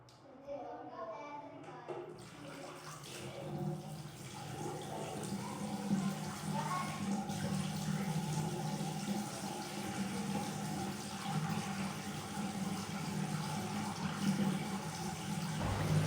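Tap water running steadily into a washroom sink as a face is washed with cold water after a clay mask, a continuous close splashing stream starting after a short quiet moment.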